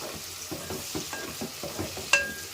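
Prawns and gongura curry base with curry leaves fry lightly in a pan, a steady soft sizzle broken by rhythmic stirring scrapes and a sharp utensil clink near the end.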